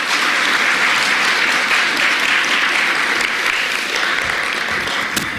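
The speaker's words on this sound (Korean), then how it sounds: "우리 하나님께 영광의 박수 올려드리며 받도록 하겠습니다" A church congregation applauds in a Korean worship service, with steady, full clapping from a large group that holds evenly throughout.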